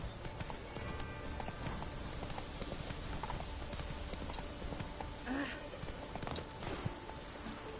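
The horse Roach in The Witcher 3 walks with steady, rhythmic hoof clip-clops on the ground, mid-distance and continuous, with outdoor ambience and a brief voice in the background.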